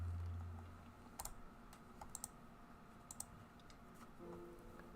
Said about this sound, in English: while you're typing up your answer